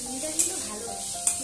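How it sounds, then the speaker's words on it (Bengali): Paneer pieces frying in a pan, steady close sizzle with two sharp metallic taps, a voice murmuring faintly beneath. "পনিরটা একটু লাল হলে পনিরটা ভেজে তুলে নেবো"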